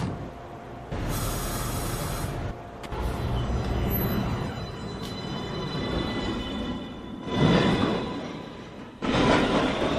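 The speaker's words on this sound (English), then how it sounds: "This is a Manhattan-bound 1 train." An NYC subway 1 train at Fulton Street rumbles through the station with wheel and rail noise, brake hiss and clanks, the sound close and fairly loud, swelling and shifting throughout.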